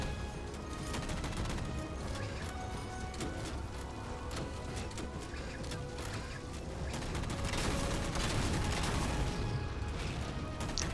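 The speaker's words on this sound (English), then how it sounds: "Still trying to hit it, shots are still going off." Gunfire in the Halo Spartan Ops video game: steady rapid shots and bursts over a busy mechanical din, continuous and moderately loud, with no talk.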